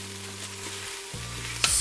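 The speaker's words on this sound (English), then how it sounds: "I'm gonna kind of stir it to get that brown incorporated into the vegetables" Spanish brown rice and vegetables being stirred in an Instant Pot, giving a soft steady sizzle with a low hum and a brief scrape near the end.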